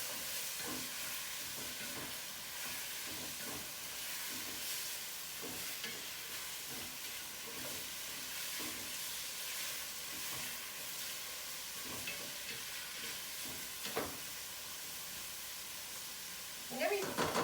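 Chopped peppers and vegetables for peperonata cook down in a pan, a faint, steady sizzle with periodic stirring scrapes running underneath.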